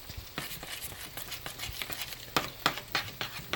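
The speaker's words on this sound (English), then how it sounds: "And get it all stirred in. Till it melts, till the butter or margarine melts." A spoon stirs butter or margarine into a pot of Southern grits, making soft scraping strokes and light taps against the pot in an uneven rhythm, close and fairly quiet.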